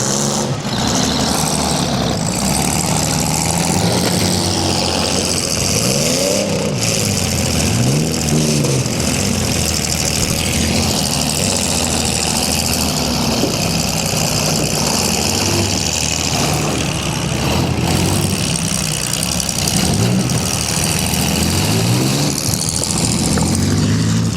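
At a county fair demolition derby, engines roar and rev continuously, including a Dodge Dakota, with rising and falling revving sweeps over a loud, dense crowd-and-arena din throughout.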